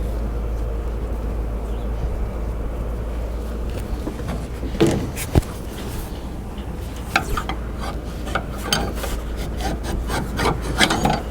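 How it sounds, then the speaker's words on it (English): A rag scrubs old grease and rust out of a boat's steering tube, giving a low, continuous rubbing and scraping close by, with a few sharper scuffs and knocks breaking in toward the middle and end. "go back to the rag a few times just to clean that loose stuff out"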